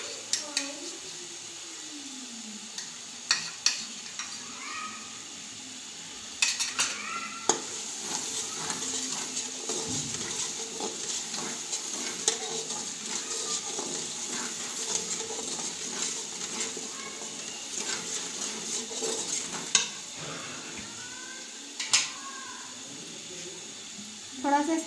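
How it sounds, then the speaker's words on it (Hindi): Lentils fry in a pot for Pakistani dal chawal, with a soft continuous sizzle and occasional scrapes and knocks of a spoon stirring against the pot, close by under a voice. "3 मिनट तक हम इसको अच्छे तरीके से फ्राई करेंगे।"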